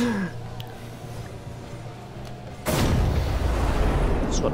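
Explosion after a goal in the video game Rocket League, a sudden loud broadband boom bursting in partway through and rumbling on heavily, following quieter game ambience.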